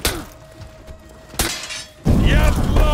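Glass shatters in the video game For Honor: a sharp crash bursts out in the middle, followed by louder clattering and combat noise. A voice is heard in the background.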